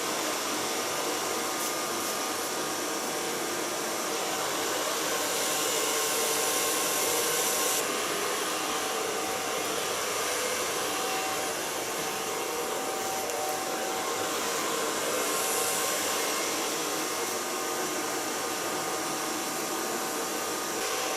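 A hair dryer blows with a loud, continuous rushing whoosh that holds steady throughout, with faint shifts in pitch and no talking.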